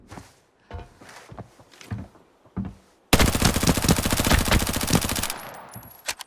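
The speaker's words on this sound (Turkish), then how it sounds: "Biri ateş ediyor diyor." Gunfire in the video game Arena Breakout: a few soft footsteps and thuds, then a sudden, loud, rapid automatic burst that rattles on steadily for over two seconds before cutting off.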